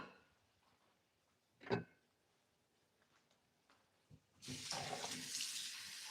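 A kitchen tap is turned on after a few quiet clicks and a thud, and water gushes steadily into the sink, close and fairly loud against a quiet room.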